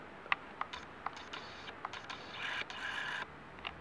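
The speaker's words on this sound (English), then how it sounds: "Wind it, press the shutter button, make sure it's going in." Film camera being wound and its shutter pressed, a close series of small ticking clicks and ratcheting creaks, then a brief whirring wind, all quiet and without talk.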